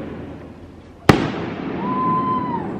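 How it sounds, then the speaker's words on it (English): Fireworks go off in daylight: one sharp, loud bang, then a thin whistling tone drifts for about a second over quiet outdoor background. "why are we doing fireworks right now?"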